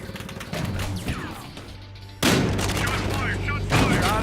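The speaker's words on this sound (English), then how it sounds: "Shots fired!" Gunfire in the video game Battlefield Hardline: sharp bursts of shots and crashing impacts, loud and close, with a heavier barrage starting midway, under brief game voices.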